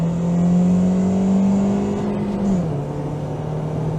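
A Ford Mondeo MkIII with the 1.8 engine accelerates in second gear, its droning engine note climbing steadily from inside the cabin before dropping as the throttle eases near the end.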